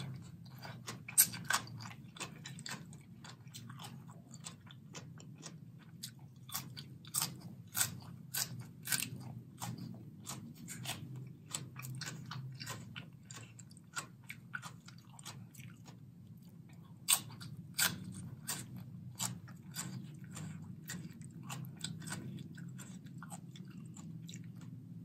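Crunchy chewing and biting while eating spicy Thai papaya salad with large fresh shrimp, close up, a steady run of crisp crunches over a low background hum, with no talking.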